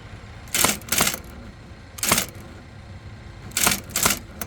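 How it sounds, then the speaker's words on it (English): A VariTyper Model 1010 electric composing typewriter struck in loud, close single key hits, spaced out irregularly over a steady electric hum. "Okay, like this, and then we can type"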